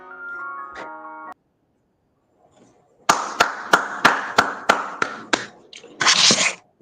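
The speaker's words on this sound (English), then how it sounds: "All right, we're gonna clap it up." Handclaps in a steady rhythm, about ten sharp separate claps close together from a small group or single person, following a brief tonal sound and a pause, ending in a dense burst of clapping.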